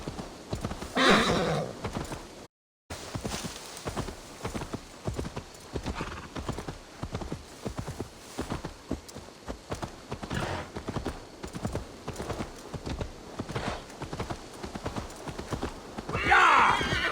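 A horse in Assassin's Creed Valhalla trots with steady rhythmic clip-clop hoofbeats, whinnying loudly near the start and again at the end, with a short dropout early on.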